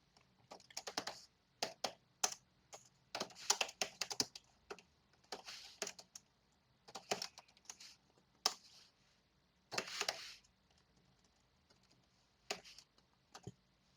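Code is typed on a computer keyboard in quick, close, irregular bursts of clicking keystrokes separated by short pauses.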